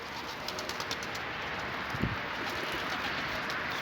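Soft, low cooing from a pigeon rises briefly against a steady hiss, like rain or wind, with faint scattered ticks.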